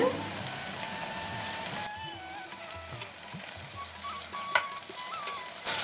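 Crushed ginger and garlic, with slit green chilies, sauté in a pan with a constant, close sizzle sprinkled with small pops and crackles, and no talk.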